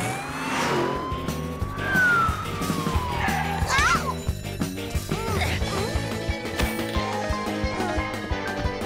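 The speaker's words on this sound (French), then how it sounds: "Tonton, on pourrait remettre la sirène?" A car siren wails in rising and falling sweeps amid busy cartoon music and street noise, with children's voices chattering over it.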